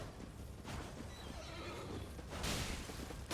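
A horse neighs in the Elden Ring video game, a close whinny over the clatter of hooves and a steady background of game noise.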